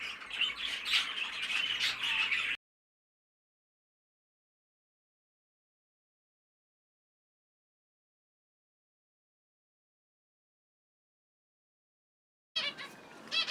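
Fife canaries and finches squawking and chirping in an outdoor aviary flight, a busy burst of close calls, then a long silence before the chatter returns briefly.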